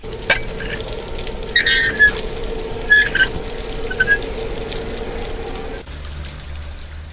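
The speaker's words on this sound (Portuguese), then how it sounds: "a gente vai abrir ela e a água vai começar a jorrar" Water gushing from an opened crank valve into irrigation channels on a biblical-style farm, a steady rushing flow with a constant low hum, occasional squeaks and bird chirps on top, and the sound dropping sharply near the end.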